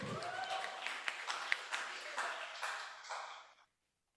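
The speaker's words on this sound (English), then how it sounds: "Please give a warm round of applause for Mrs." Audience applause after an introduction at a public leadership lecture, steady clapping for a few seconds that fades and stops abruptly, with no talking over it.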